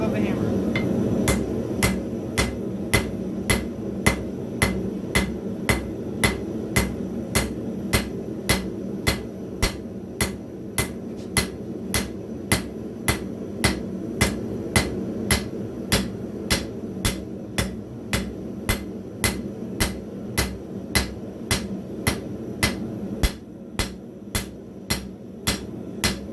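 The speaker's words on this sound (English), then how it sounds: "I'm going to start the bevels now, I'm start angle my hammer just down a little bit" Steady hammer blows forging the bevels on a skinning knife blade, sharp metallic strikes repeating at a quick, even rhythm of roughly two per second, close and loud over a low forge roar.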